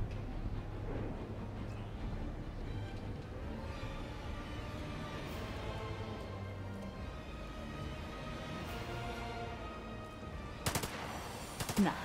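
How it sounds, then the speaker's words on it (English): Gunfire in a firefight in the video game The Lamplighters League, rapid bursts rattling under a low droning background, with a few sharper cracks near the end; no talk. "Nah, this is a firefight."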